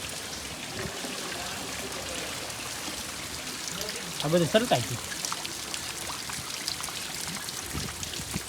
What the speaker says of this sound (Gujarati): વરસાદ જ એવો છે આ પોરો ખાતો જ નહીં ધોધ જ પડે છે